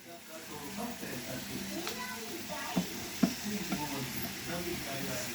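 Paneer bhurji sizzles in a pan while being stirred, steady frying hiss with a few distinct spoon scrapes and clinks, under quiet talk between an adult and a child.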